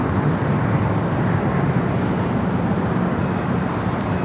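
Steady, loud broadband roar of a Delta Boeing 767 airliner touching down on the runway at LAX, a continuous rumbling wash of engine and rolling noise without a break.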